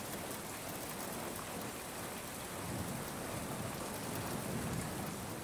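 Video game rain in a Western desert town patters across surfaces, a dense continuous hiss with low rumbling beneath, holding evenly throughout with no voices.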